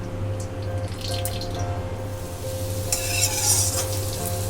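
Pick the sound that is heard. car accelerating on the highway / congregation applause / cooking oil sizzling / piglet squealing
cooking oil sizzling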